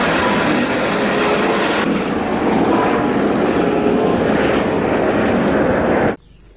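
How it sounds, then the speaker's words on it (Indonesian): Loud, steady whirring buzz of a small toy helicopter's motor and rotor, running continuously, then cutting off abruptly at the end. "Ini adalah helikopter."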